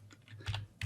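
A computer keyboard is typed on quietly at close range, a quick run of soft, irregular key clicks with a couple of sharper taps.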